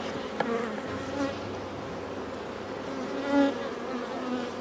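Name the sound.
honey bees buzzing around hive frame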